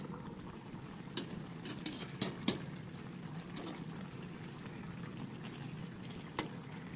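Tilapia simmers in coconut milk in a covered pan, with a steady low bubbling hiss and a few sharp ticks from the lid, quiet and close, no voices.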